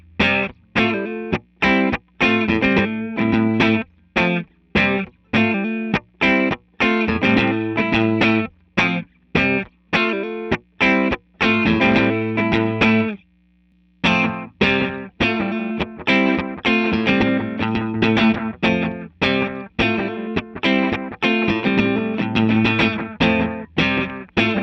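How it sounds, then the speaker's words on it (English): Electric guitar played through a Way Huge Aqua Puss MK1 analog delay pedal into a Bandmaster amp, loud and distorted, with rhythmic strummed chords and echoing repeats that run on with one short pause midway. "I'll add the Mark 1 Aqua Puss set to something kind of in the ballpark of John's AP2 settings"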